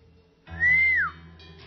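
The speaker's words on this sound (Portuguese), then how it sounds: "Assobiou cheio de alegria" A single bright whistle rises and then slides downward, clear and close over a soft low background.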